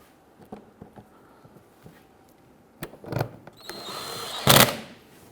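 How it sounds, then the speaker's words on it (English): A power driver briefly buzzes in short bursts while snugging screws along the front of a Dodge Charger engine splash shield, with light handling taps and clicks between the louder bursts. "Install your screws across the front,"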